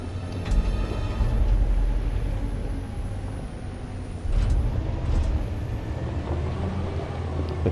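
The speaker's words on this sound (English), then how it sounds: "Drive the futuristic electric truck." Futuristic electric truck from the video game Detroit: Become Human driving, a steady low rumbling drone with a few faint hissing bursts, loud and continuous throughout with no talk.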